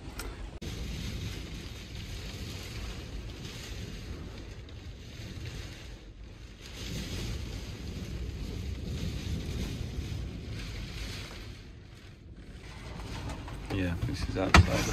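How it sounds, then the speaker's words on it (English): Strong wind and rain buffeting the outside of a parked Ford Transit minibus conversion on the south coast, a continuous loud rushing roar with gusts swelling and easing throughout. "very windy."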